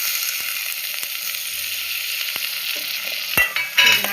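Ground tomato paste sautéing in a pan for a seela fish curry, a steady close sizzle with occasional light clinks and scrapes of a spoon, running alone without voices.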